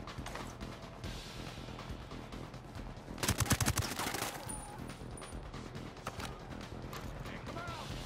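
A rapid burst of submachine gun fire in a video game, a tight rattling string of shots lasting under a second amid a busy, noisy game soundscape with a voice talking around it.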